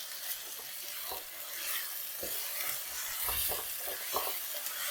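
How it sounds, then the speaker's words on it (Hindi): Chicken pieces fry in a hot pan over high flame for achar gosht, with a continuous bright sizzle and repeated scraping stirs of a spoon against the pan, close and steady. "इसमें अब चिकन डालकर फ्राई करना है जब तक इसका रंग वाइट हो जाए।"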